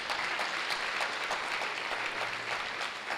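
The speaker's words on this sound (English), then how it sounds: "Help me with a bigger round of applause to welcome Professor Margaret Gyapong" A lecture audience gives a steady round of applause to welcome a professor, fairly soft and even clapping continuing throughout.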